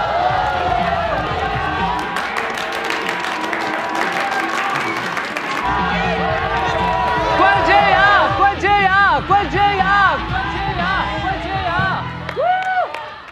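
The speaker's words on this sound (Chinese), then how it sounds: "掌声" A studio audience breaks into applause and cheers, starting under a host's voice and swelling into loud, sustained clapping with whoops.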